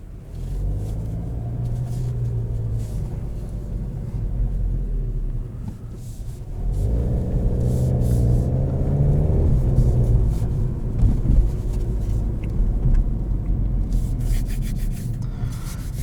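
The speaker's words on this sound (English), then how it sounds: "These are such fun cars to drive." Engine rumble from inside a moving 2019 Volkswagen GTI S with a DSG dual-clutch gearbox, steady road noise with the engine swelling as it accelerates midway, no talking.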